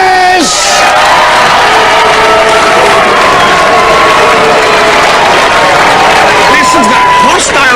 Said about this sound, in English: Listen to that hostile crowd, they're on your side, they wanted you to go through.